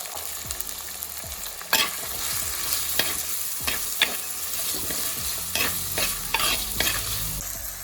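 Small onions (shallots) go into a hot pan of oil for mutton curry, sizzling and crackling while a spoon stirs with a string of sharp scraping knocks against the pan.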